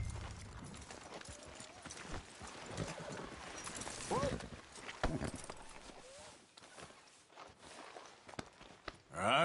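Horse hooves clop at a walking pace on firm ground in a video game, fairly close, with scattered softer noises around them and a brief sharper sound at the end.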